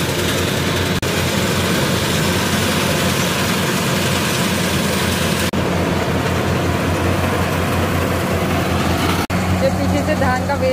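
A heavy combine harvester engine drones loudly and continuously at close range during a rice harvest, a steady low rumble with mechanical clatter running throughout.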